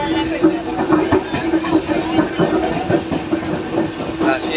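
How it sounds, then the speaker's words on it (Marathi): A crowded Mumbai local train runs with a steady, loud rumble and rhythmic clickety-clack of wheels over rail joints, heard from inside the carriage with no clear talk over it. "रेल्वेचा प्रवास कसा असतो मुंबईकरांचा हे मी तुम्हाला दाखवत आहे."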